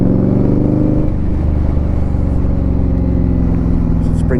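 Steady, loud road engine noise from an Indian Scout Bobber motorcycle riding through busy countryside traffic near Devizes, a continuous low rumble with a shift in engine note partway through and vehicles passing close by.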